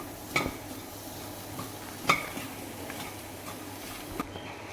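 Onions cooking with spices in a pan for a palak paneer samosa filling, with a few sharp metal spoon scrapes and clinks against the pan over a faint steady background.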